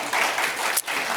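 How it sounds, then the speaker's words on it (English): Short burst of audience clapping at a healthcare summit, a brief dense patter of hands that dips for a moment and then continues at a moderate level. "yeah, you can applaud for that"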